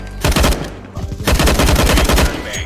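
Rapid gunfire in a first-person shooter game, two loud close bursts of shots in quick succession separated by a short pause.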